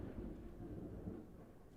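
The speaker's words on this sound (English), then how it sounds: "That was lightning." Thunder from a lightning strike rumbling low and faint in the distance, a brief steady roll with no voices.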